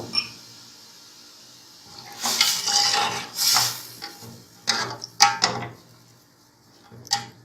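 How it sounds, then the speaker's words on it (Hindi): Strained yakhni broth poured into a pot of browned meat for a Pakistani saffron pulao, giving a few soft splashy bursts and light clinks against the pot, close and moderately loud, with no talk. "ये यखनी हम इसमें ऐड कर देंगे।"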